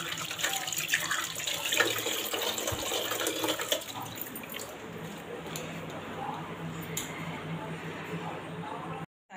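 Tap water runs steadily onto food being washed in a mesh net basket, a broad, close rushing that eases slightly partway through, then cuts off at the end.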